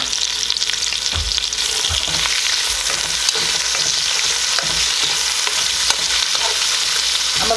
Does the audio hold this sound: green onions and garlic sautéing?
yes